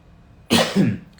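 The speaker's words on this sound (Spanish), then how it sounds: "Estoy con esta tos que no se me va a ir por un tiempo." A single sharp, close cough from a man with a lingering cough during a Spanish-language lecture, a loud double-pulsed burst that rises out of near silence and fades quickly.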